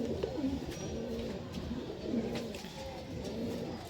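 Domestic high-flying pigeons in a loft coo steadily in low, rolling phrases, several birds overlapping close by for the whole stretch with no talk.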